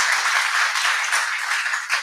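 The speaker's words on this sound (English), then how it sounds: "Let's give him a round of applause" Steady applause from an audience honoring a speaker at a tribute event, dense continuous clapping filling the room at even loudness.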